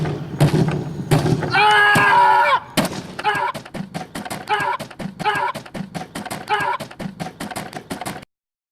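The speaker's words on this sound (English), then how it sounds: "Alright Tiana, let's see if a bowling ball could really do some damage to guitar." Bowling ball smashing into a guitar, heavy thuds and crashes with a ringing string twang, followed by a run of sharp repeated impacts, loud and close.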